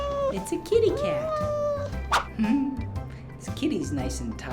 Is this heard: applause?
no